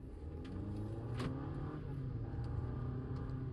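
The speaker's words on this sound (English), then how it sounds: "Now we're testing in an actual car by giving it a sudden brake" Inside a car moving at a decent speed, a steady low engine and road rumble fills the cabin, broken by a sharp brief knock as the driver brakes suddenly before the drone carries on.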